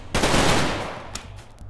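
Gunfire in the video game Rimworld, a sniper exchange: one loud burst of shots followed by a decaying, crackling tail and a few fainter pops, with no talk.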